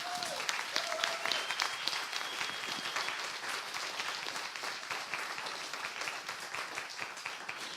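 A conference room audience at the FACE Summit 2023 claps for several seconds, the crisp, dense patter of many hands fading gradually, with a few faint whistles or tones briefly rising over it.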